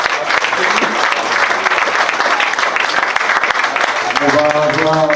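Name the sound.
audience applauding at a fair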